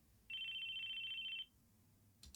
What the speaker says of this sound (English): Something started ringing nearby. It's called a phone.